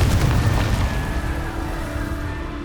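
Confringo fire spell blast in Hogwarts Legacy, a loud booming explosion that rumbles and decays over a few seconds with continuous game noise behind it.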